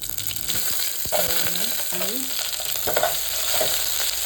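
Mustard seeds fry in hot oil, giving a steady hiss broken by scattered sharp pops and a few faint tonal sounds in the background.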